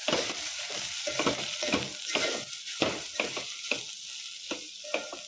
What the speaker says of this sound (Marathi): व्यवस्थित मिक्स करूया.